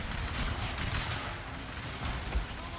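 Dense barrage of cannon and rifle fire in a historical strategy video game battle, a continuous roaring rumble of overlapping blasts with no clear pauses.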